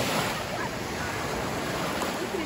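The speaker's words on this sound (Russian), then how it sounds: "А все равно вода не такая прям спокойная, там волны есть." Sea waves wash steadily along a Turkish resort shoreline, a soft continuous surf hiss with slight wind noise, fairly quiet and without distinct breaking crashes.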